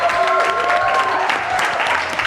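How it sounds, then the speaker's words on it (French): Secondary school students applaud in a Rwandan TV studio at the end of an interview episode, a dense, steady clatter of hands close by with some voices faintly mixed in. "Applaudissez pour vous."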